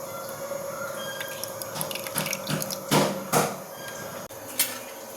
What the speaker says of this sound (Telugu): ఇప్పుడు వడగట్టుకుందాము